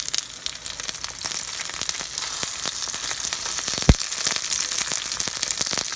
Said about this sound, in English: So while those are continue to cook in the oil